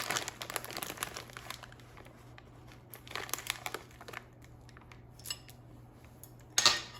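Chocolate chips being stirred into microwave cookie dough: irregular crinkly scraping and clicking strokes, close and fairly quiet, with a sharper burst near the end.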